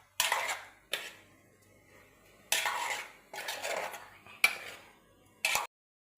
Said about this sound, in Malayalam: ഇത് നമുക്ക് ഇളക്കി കൊടുക്കാം.